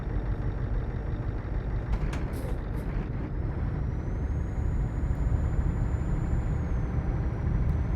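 Heavy truck in a trucking video game, a loud continuous engine drone with a short air-brake hiss early on and a rising whine later.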